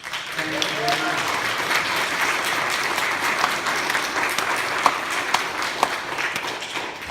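A church audience applauds its choir leader during a worship service: dense, sustained clapping from many hands, loud and steady for several seconds with no pause.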